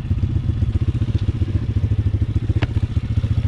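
A cheap Amazon pit bike climbing a black diamond enduro trail, its small engine chugging in a fast, steady pulsing rhythm close and loud, with a brief clatter partway through and no talk.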